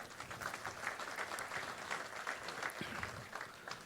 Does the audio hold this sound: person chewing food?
no